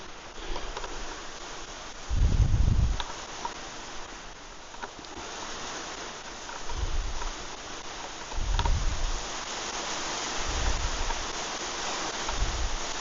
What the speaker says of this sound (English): it's absolutely pouring and windy